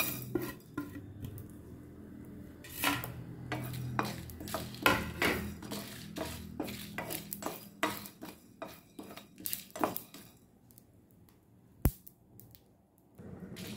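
A utensil stirring spices roasting in a metal pan repeatedly scrapes and clinks in an irregular rhythm, close up, with a faint low sizzle underneath.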